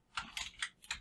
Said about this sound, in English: Type build, press enter.